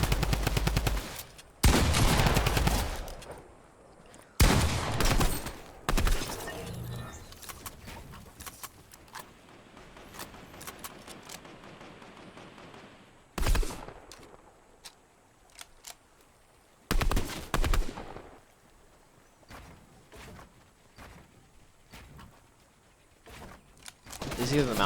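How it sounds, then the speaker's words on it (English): Drum gun spam in a Fortnite arena match, loud rapid bursts of automatic fire in several clusters separated by quieter gaps, no talking. "it allows me to drum gun spam"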